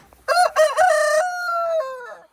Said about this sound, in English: got 50 Rhode Island Reds out here on pasture